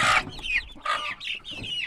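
Several chickens cluck and squawk close by in short overlapping bursts, with no talking.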